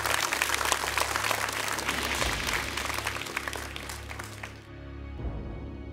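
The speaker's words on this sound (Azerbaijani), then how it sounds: "11 nəfəri biz alqışlayırıq." A quiz show studio audience claps in steady, dense applause for several seconds, then it cuts off abruptly and a low background hum remains.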